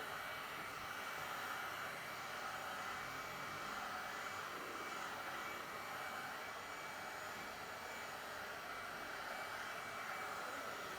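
A heat gun blows hot air onto vinyl wrap film on a Mercedes GLS600 Maybach, a steady, quiet, even whoosh that continues unbroken throughout.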